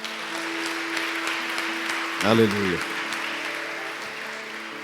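A church congregation at a baptism service applauds steadily, a dense wash of clapping running the whole time beneath a preacher's voice, with a brief sung or spoken swell near the middle.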